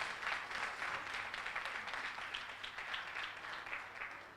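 Audience applause at an early childhood education conference panel, a steady spread of many people clapping, fairly quiet and roomy, tapering slightly toward the end.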